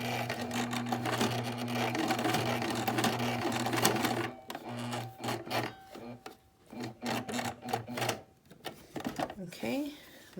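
A sewing machine with a leather needle works slowly through thick duck cloth for a face mask, first in a steady run, then in short, halting stitch bursts with fabric rubbing between them.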